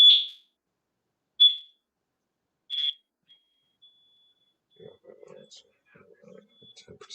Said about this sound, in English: So Lex, what happened to smoke detector